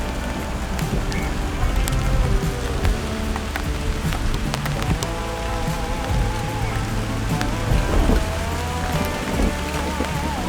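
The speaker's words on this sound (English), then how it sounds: "Here comes the rain." Rain falls steadily in Uthai Thani, Thailand, pattering densely on a surface nearby. Scattered sharper drips and taps sound over a constant hiss that lasts throughout.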